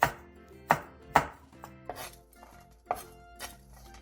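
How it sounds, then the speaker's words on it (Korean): A knife cuts green and red Cheongyang chilli peppers lengthwise on a board, giving about six sharp, close strokes in an uneven rhythm with no talking. "청양고추 1개와 청양 홍고추 2개를 길게 어슷썰게 해주세요."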